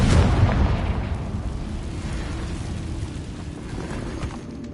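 A Confringo blast goes off in Hogwarts Legacy inside an abandoned mine: a loud, deep explosive boom opens, then a long rumbling, crackling decay that slowly fades over several seconds.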